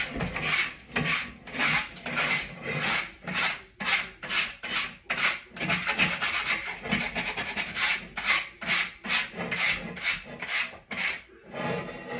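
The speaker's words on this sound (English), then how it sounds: "Scraped off some leftovers from baking some rolls on it." Leftovers from baked rolls are scraped off a baking pan in steady, rhythmic rasping strokes, loud and close, repeating throughout with no voices.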